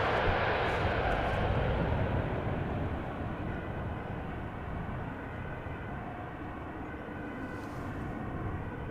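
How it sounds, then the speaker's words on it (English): A six-year-old Boeing 777 freighter touches down at Amsterdam Schiphol after a nine-hour flight, a distant, fading engine rumble and rush that slowly eases and levels off. "Touching down after 9 hours and 13 minutes, this 777 freighter"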